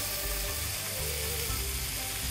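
Wood ear mushrooms frying in a small amount of oil in a pan, making a steady close sizzle throughout the short stretch with no voices.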